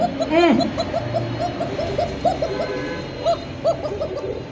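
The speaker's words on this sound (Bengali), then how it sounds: "আর যে ডাক দেখছেন কবুতর ডাক" A young pigeon for sale at a pigeon market coos in a close, repeated series of soft rolling calls, with a faint voice briefly underneath.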